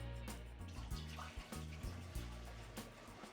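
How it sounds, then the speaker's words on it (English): Water pours into a bread machine pan, the first step in making flatbread dough, a steady close splash and trickle lasting a few seconds with rhythmic low clunks underneath. "So first of all, we're going to add the water."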